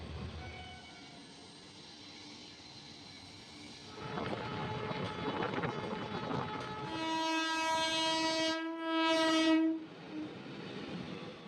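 Siliguri–Katihar Intercity Express at Bagdogra station: a train rumbles and clatters past, then a loud sustained horn blast sounds close by near the end, with no speech.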